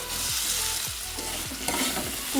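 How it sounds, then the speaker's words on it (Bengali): Soaked masoor dal frying with spices in a pan, a steady close sizzle broken by repeated scraping stirs of a spatula, with no voices. "ভালো করে এটাকে আমি দু থেকে তিন মিনিট এখন ভাজা ভাজা করে নেব"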